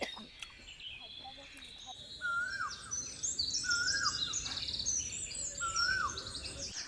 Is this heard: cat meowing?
no